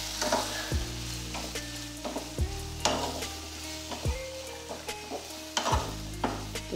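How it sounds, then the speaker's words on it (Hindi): Vegetables for leftover-rice manchurian are stir-fried in a hot pan. A steady sizzle runs underneath, and a spatula scrapes and tosses in regular strokes about every second and a half. No talk is heard. "देखिए 2 मिनट तक सब्जियों को हल्का सा पका लेते हैं।"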